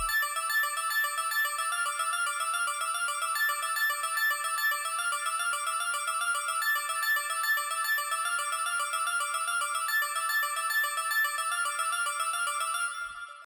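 A synth bass preset from the Fantasy Sounds pack in Electra X plays alone, a steady bright buzzing tone pulsing in a rapid repeating pattern for about thirteen seconds before cutting off.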